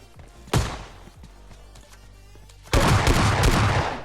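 Gunfire in the PUBG Lite battle royale game, with one sharp shot near the start followed by a dense, loud burst of firing in the final seconds over a low background rumble.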